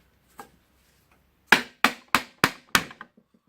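A flange is worked off a Hitachi G23MRU 230 mm angle grinder during disassembly: one light knock, then five sharp, evenly spaced metallic strikes, close and loud, with faint ticks after.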